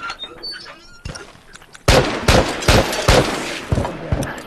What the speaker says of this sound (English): So much shooting at me, but he doesn't know how to aim.